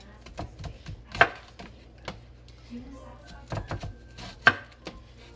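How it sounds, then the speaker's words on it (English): A very sharp knife cuts through half an onion on a board in a few sparse, crisp chops, with two sharper strikes standing out over faint background noise. "Be careful when you're cutting anything with a really sharp knife, guys."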